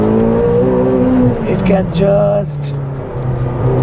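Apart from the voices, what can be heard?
McLaren GT mid-engine V8 turbo car driving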